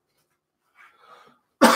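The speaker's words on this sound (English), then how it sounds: "Do have a little bit of a cough left" A person with a lingering cough gives one sharp, close cough after a few soft breaths.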